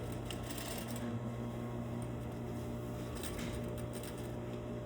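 A sewing machine running a back stitch on an invisible zipper, a continuous close mechanical hum and rapid needle chatter filling the whole short stretch without pause.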